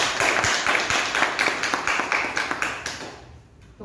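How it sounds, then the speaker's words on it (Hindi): Audience clapping for an arriving speaker, a dense run of many hands applauding steadily for about three seconds before thinning out near the end. "जब सर आए तो उनके लिए एक बार जोरदार ताली हो सकती है"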